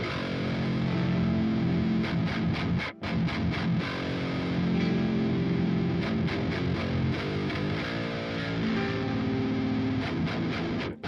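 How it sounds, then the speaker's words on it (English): An electric guitar is split so its low strings run through a distorted channel and its high strings through a clean channel with reverb, playing a continuous riff with crunchy low chords under ringing upper notes and short breaks. "the lower strings are going to a distorted channel, and the higher string are going to a clean channel with some reverb"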